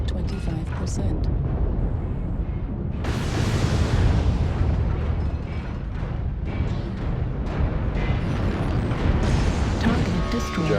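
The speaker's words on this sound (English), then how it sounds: "Oh, ammo explosion got you, huh?" Mech ammunition cooking off in the MechWarrior Online video game, a dense, sustained rumbling blast with a sharp surge of crackling debris partway through, loud and continuous over a busy battle backdrop.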